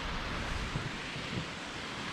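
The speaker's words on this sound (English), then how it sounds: "there's a neat little waterfall here" A small waterfall along a hiking trail on Mount Rainier, a steady broadband rush of falling water heard from a short distance, even and unbroken with no voices.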